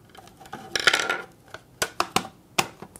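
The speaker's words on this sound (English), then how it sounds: "Put the back of the cartridge back on." The plastic back shell of a Nintendo 64 game cartridge is pressed back into place during a battery replacement, giving a close series of sharp plastic clicks and snaps spaced unevenly over a few seconds.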